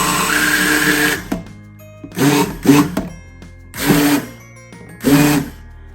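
Hand blender pureeing canned tomatoes inside the can, loud close motor whirring in four or five short bursts with brief pauses between, no talking.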